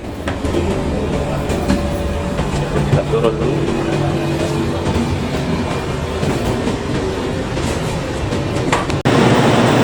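A Kelana Jaya Line light-rail train rumbles steadily with rail clatter and a droning hum as it arrives at its terminal, then the sound shifts abruptly near the end as a voice speaks briefly.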